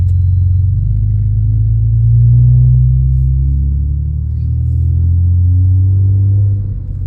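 A Ford Taurus SHO fitted with water/methanol injection and a custom intercooler spray drives along, its engine and road noise forming a steady, loud, low drone that swells slightly mid-run, with no talking.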